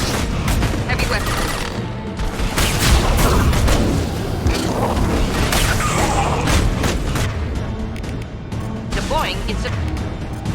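A heavy weapon fires in the video game Mass Effect 2, producing dense booming blasts and rapid bursts of gunfire that rumble continuously throughout, with voices speaking over the combat.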